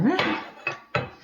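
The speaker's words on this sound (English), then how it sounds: "And we're going to give this a little stir." Spoon stirring wet and dry banana bread pudding batter in a mixing bowl, with a few distinct clinks and scrapes against the bowl in a short close sequence.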